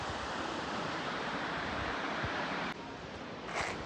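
Gaganachukki waterfall in Karnataka, a steady broad roar of falling water heard from a distance, continuous throughout with a brief shift near the end.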